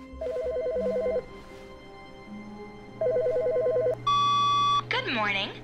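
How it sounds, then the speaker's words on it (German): A telephone in the video game The Stanley Parable rings in two trilling bursts separated by a pause, followed by a steady electronic tone and a voice starting to speak. "Telefon."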